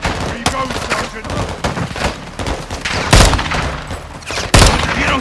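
Loud bursts of gunfire in the 2022 video game Call of Duty Modern Warfare II, with dense rattling shots throughout and two heavy blasts standing out near the middle and end, set against battle noise.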